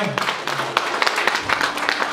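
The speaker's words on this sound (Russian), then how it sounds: "Мы поздравляем аплодисментами." Wedding guests clap for the couple at a civil ceremony in a banquet hall, a brief burst of scattered, close applause with uneven rhythm.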